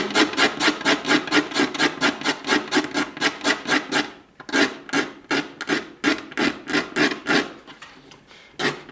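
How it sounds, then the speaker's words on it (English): Pigmented lacquer is rubbed off a wooden parlor guitar body in fast, rhythmic rasping strokes, close and loud, with a brief pause midway before the scrubbing resumes. "can see the pigmented lacquer is being removed"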